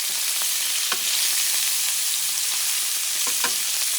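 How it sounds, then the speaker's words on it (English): Scallops frying in a pan over medium heat alongside rice and chickpeas, a loud, steady close sizzle with a few faint stirring scrapes. "You want to cook the scallops."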